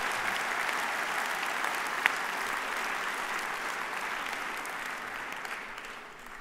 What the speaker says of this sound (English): What a good place to applaud our second group.